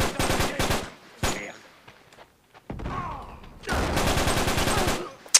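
Gunfire in Uncharted 3: Drake's Deception, with a shotgun among the weapons: rapid bursts of loud shots in rough clusters, separated by a quiet gap with a few thuds, with brief faint voices.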